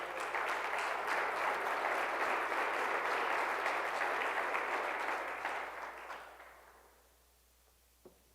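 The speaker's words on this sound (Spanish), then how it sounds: "vamos a darles un aplauso de bienvenida a todos aquí a Querétaro" An audience in Querétaro, Mexico, applauds loudly and steadily in welcome, a dense wash of clapping that fades away toward the end, leaving near silence and one final clap.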